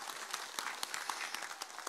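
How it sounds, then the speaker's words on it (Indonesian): Applause from the audience at an Islamic religious gathering as the organising committee is thanked, quick scattered claps that sound faint and fairly distant. "tepuk tangan dulu dong buat panitianya"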